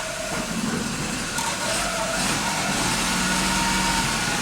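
A Daihatsu Hijet SP83 engine idling after a clutch replacement, a steady rough mechanical drone with a faint whine, close and continuous without pauses.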